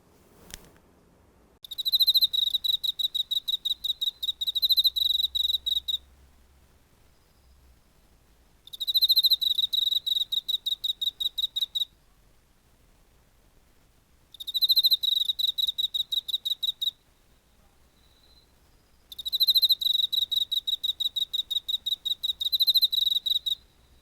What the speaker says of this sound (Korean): 지금 여기 수컷 귀뚜라미가 노래하고 있습니다.